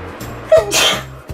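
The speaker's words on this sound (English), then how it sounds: "oh, I need to sneeze, sorry." A single loud, close sneeze, a sharp intake followed by an explosive burst of breath, from one person indoors with no talk over it.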